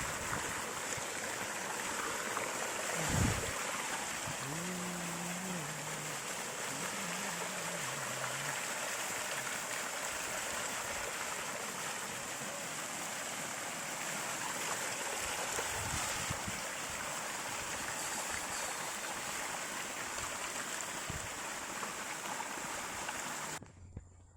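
Steady, broadband rush of flowing water runs throughout, even and continuous like a nearby stream, with a brief low thump early on.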